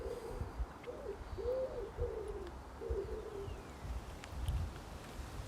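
A bird coos outdoors on a windy day, a short series of soft low hooting notes in the first half, fairly distant under gusty wind rumble.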